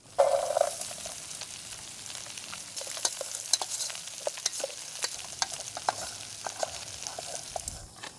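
Garlic and onion sauté in cooking oil at an outdoor campsite, starting with a sharp hiss as they hit the pan, then a low sizzle broken by scattered clicks and scrapes of stirring, with no talk.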